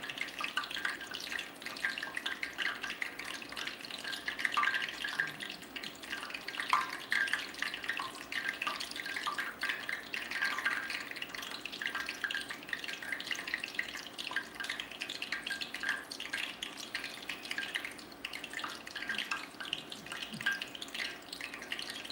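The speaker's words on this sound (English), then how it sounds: "Why it's bubbling so much was there was a little bit of moisture when I put the oil in" Hot oil bubbling and crackling steadily as moisture cooks out while frying chicken for a buffalo chicken sandwich, a soft continuous fizz with small pops, fairly quiet and with no talking.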